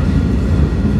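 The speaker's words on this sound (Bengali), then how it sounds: "আমাদের ট্রেনটি 28 কিলোমিটার গতিতে ভাঙ্গা junction rail station through pass যাচ্ছে" A stone-carrying freight train runs through Bhanga Junction station at about 28 km/h, a loud, dense, continuous rumble of wheels and wagons heard from on board, with no voices.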